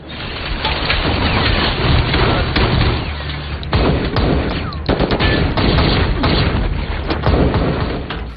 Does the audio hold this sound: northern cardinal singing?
no